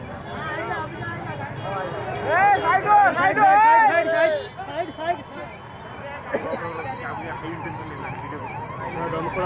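A fire engine's siren wails in rising and falling sweeps through traffic near Balasore police line, where a Tata electric car is burning; it swells loud for a few seconds then fades, with voices talking over the scene.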